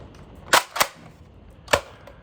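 Three sharp handgun shots from a concealed pistol crack out close and loud, two in quick succession followed by a single shot after a pause, with no talking.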